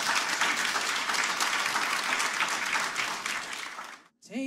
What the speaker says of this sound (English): Can we give a round of applause to Sister Judith